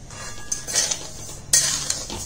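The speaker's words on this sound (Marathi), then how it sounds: "इथं भाजायला घेतले तांदूळ" Rice dry-roasts in a pan while a utensil stirs it, giving soft scraping and rustling sounds with a few light clinks against the pan, close by and brief.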